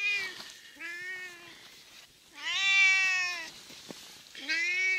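A hungry, food-loving house cat meows close by, four drawn-out, rising cries spaced across the moment, loud and clear with nothing else behind them.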